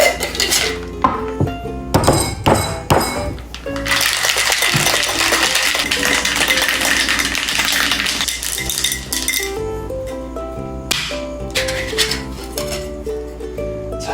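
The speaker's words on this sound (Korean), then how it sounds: "쉐이킹을 할 땐 이제 이 남아있는 얼음이 다 없어질 정도로 좀 파워 있는 쉐이킹을 하면 좋은데" Ice rattles hard inside a cocktail shaker while a honey makgeolli drink with ginger is mixed. Vigorous rhythmic shaking in close, loud bursts, with a long continuous stretch in the middle and clinks of glass and metal around it.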